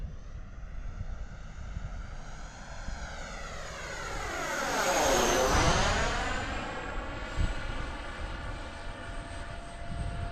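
An F-14 jet flies past overhead in grey, cloudy skies, its roar swelling to a loud peak as it passes close by and then falling in pitch and fading away, with no talking.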